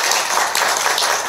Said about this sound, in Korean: 우리 유홍림 총장님께 박수 한번 좀 보내주십시오.